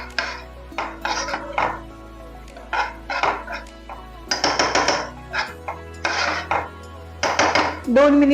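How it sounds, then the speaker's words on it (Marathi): Manchow soup filling gets sautéed and stirred in a pan, with bursts of scraping and clattering utensil strokes in an uneven rhythm over a quiet background hum. "एक 2 मिनिट हे परतून घेते सगळं सारण."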